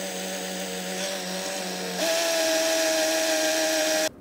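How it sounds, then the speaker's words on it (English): A power drill whines steadily while boring through metal brackets in a Sprinter van conversion during solar panel installation, its pitch stepping up midway before cutting off abruptly at the end. "now I've just got to drill through all these brackets and we can fix this one in."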